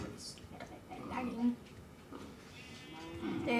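In the Minecraft video game, a cow moos a few times at moderate volume while people talk over it.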